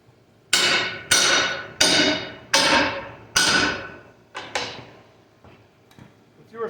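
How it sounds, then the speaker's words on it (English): A hammer knocks a plasma-cut piece of 1-inch-thick steel loose from a cutting table, five loud, ringing metallic strikes in a steady rhythm followed by a few lighter taps and clanks. "Let's get a hammer here."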